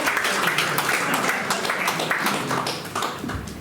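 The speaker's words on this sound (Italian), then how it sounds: "Un applauso Giovanni." Audience clapping for a performer at an evening event at Villa Gardenia in Ossi, a short burst of applause that stays fairly steady and then thins out toward the end.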